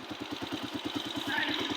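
A motorcycle engine idles at the roadside with hazard lights on, a steady rapid low putter, close and fairly quiet, running on its own without talk.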